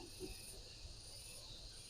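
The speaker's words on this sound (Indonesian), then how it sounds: "Ini backsoundnya suara jangkrik apa suara apa nggak tahu, jadi ngiuk-ngiuk gitu ya, tenggerek atau apapun itulah" Steady high-pitched insect chirring from crickets or cicadas at a roadside rest area, a continuous faint drone with no speech over it.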